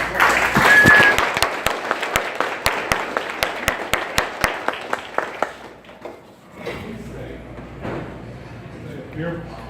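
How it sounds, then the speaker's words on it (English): Applause from an audience honoring a panel breaks out loud and dense, then fades to scattered claps with a few sharp individual slaps near the end, while low crowd murmur continues. "Can we give everyone on the panel round of applause?"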